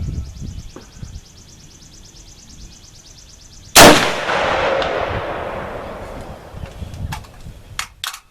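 A single gunshot fired over a chronograph cracks out loud and sharp after a few seconds of quiet background, followed by a long, rolling echo that fades, with a couple of faint clicks near the end.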